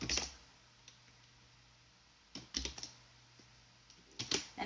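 A computer keyboard clicks in short bursts of typing with pauses between them, close and fairly quiet, while an HTML form is built.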